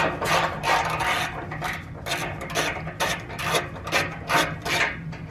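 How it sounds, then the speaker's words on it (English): Ratcheting and rasping metal work loosening 15 mm exhaust clamps underneath a Jaguar XK 5.0, in repeated close bursts of a second or so with brief pauses between strokes, no talking. "I think first off we'll have to undo these clamps so we actually have some movement."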